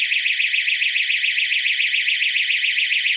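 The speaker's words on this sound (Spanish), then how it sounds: "Hemos visto alarma." A DSC wireless security system alarm sounds as a loud, continuous high-pitched warbling siren that rises and falls in rapid, even pulses.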